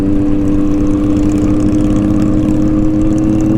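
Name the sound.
Harley motorcycle engine revving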